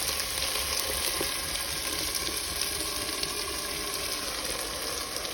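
Sauce sizzles in a pot of sautéed potatoes and carrots over medium heat, a steady close frying hiss with faint stirring and no talking.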